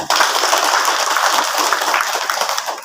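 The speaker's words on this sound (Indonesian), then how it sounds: "Tepuk tangan dulu semua" A congregation at a manaqib gathering claps hands together, a dense, loud burst of applause lasting a few seconds.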